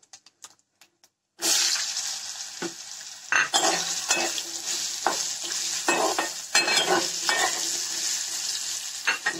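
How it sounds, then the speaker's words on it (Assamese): Cut potatoes hit a hot pan and begin frying: a few soft taps, then a sudden loud sizzle that keeps going, with scraping stirs and pan clatter over it. "ইয়া আমি কাটি লোৱা আলুখিনি অকমান ফ্ৰাই কৰি লম।"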